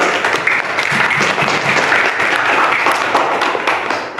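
Schoolchildren in a classroom clap together in loud, continuous applause, with many hands overlapping in a dense, lively patter that holds steady to the end.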